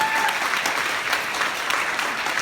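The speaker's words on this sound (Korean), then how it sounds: "여러분 다시 한번 큰 박수 부탁드립니다" An audience at a children's song contest applauds a child singer, a dense, steady wash of clapping from a large crowd that continues throughout.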